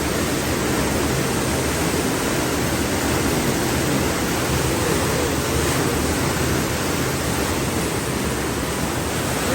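Water rushes loudly and constantly in a dense, unbroken roar, close and alone, with no voices.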